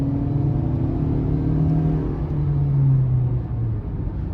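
A 2023 Honda CR-V EX with the turbocharged 1.5-litre engine and AWD pulls hard uphill in sport mode, giving a steady, droning engine hum whose pitch climbs slightly, heard from inside the cabin with no talking.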